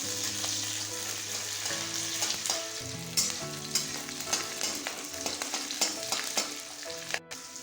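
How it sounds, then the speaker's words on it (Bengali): Black cumin, onion, garlic and whole chillies frying in a little oil, a steady close sizzle with scattered crackles and occasional utensil scrapes as they are stirred. "কালো জিরে, বড় বড় করে কেটে রাখা পেঁয়াজ, রসুন, গোটা লঙ্কা, সব কিছুকে ভেজে নেব ভালোভাবে"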